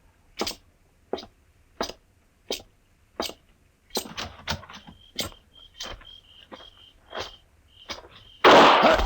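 A gunshot sound effect in a Gunsmoke old-time radio Western drama: a series of sharp, evenly spaced cracks followed by a cluster of quicker reports and a final loud burst, with no talk.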